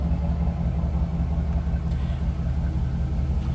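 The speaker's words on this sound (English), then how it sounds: "Some nice sounding Chevy V8 underneath the hood." A 2004 Chevrolet SSR's Chevy V8 with stock exhaust runs steadily, producing a deep, even low-frequency rumble at a moderate distance with no revving.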